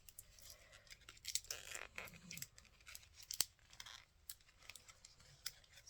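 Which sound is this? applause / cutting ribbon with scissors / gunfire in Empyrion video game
cutting ribbon with scissors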